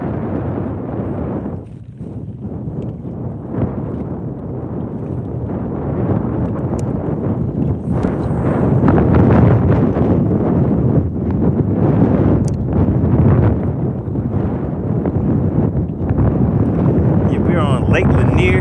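Strong wind out on Lake Lanier buffets the microphone with a loud, continuous low roar that swells and gusts, with a person talking intermittently over it.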